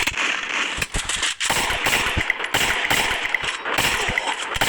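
Rapid gunfire from the Free Fire mobile shooter game crackles in dense, continuous volleys of shots, loud and close throughout with barely any pause.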